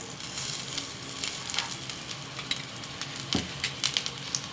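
Onion paratha frying in oil in a pan, a soft steady sizzle with small crackling pops and a few light stirring or pressing sounds, close and moderately quiet.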